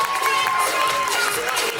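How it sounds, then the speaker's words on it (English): Crowd cheering and applauding for dancers on stage at a dance competition awards moment, a steady dense roar of claps and shouts throughout, with a faint whistle-like tone partway through. "Give them a big round of applause."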